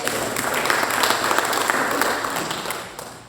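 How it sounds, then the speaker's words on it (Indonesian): Congregation clapping during a church worship service, a dense, steady wash of applause from many hands that holds for a few seconds and then begins to fade. "Tepuk tangan."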